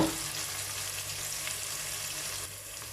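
Chicken and rice sauce fry in a pan, a steady broadband sizzle that holds evenly for the whole stretch, close and moderately loud with no talk.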